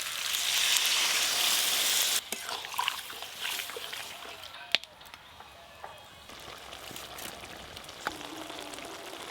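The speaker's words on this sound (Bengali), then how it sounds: "আমি একটু গ্রেভি করব, তাই হালকা একটু জল দিয়ে দেব" Water splashed into a pan of frying cauliflower and crab curry bursts into a loud hiss that settles into a steady, softer sizzle and bubbling, with a few scattered clicks.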